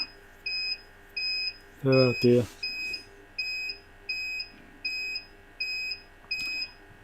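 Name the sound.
UPS low battery warning beeps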